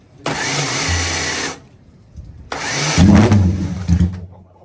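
Two cranking attempts on a classic Honda race bike engine with choke and ignition on, each a loud broadband burst of about a second, the second rougher with low sputtering as it tries to catch.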